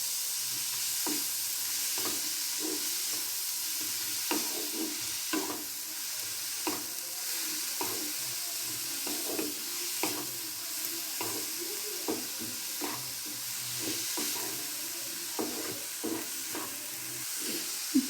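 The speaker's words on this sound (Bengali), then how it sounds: "একটু ভালো করে আমি এটা ভেজে নিচ্ছি পেঁয়াজটা" Onion frying in a pan while being stirred, a constant close sizzle broken by frequent light scraping and tapping of the spoon against the pan, with no talk.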